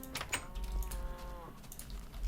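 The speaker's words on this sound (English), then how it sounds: "Got a cow." A Minecraft cow gives a low drawn-out moo with steady harmonic tones near the middle of the clip, set against game background noise and faint clicking, with no speech.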